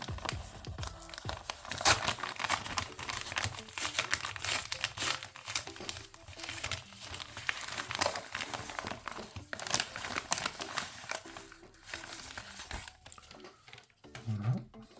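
Plastic packaging crinkles and tears continuously and close up as a parcel of Pokémon cards is unwrapped, with irregular rustling bursts and occasional crunches.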